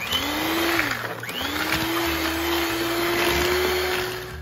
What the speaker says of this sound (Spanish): Vamos a batir hasta que desaparezca el azúcar